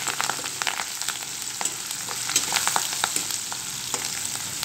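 Garlic paste and curry leaves sizzle and crackle in hot oil, tempering a tomato chutney with dense, steady popping and frying noise close up, no voices.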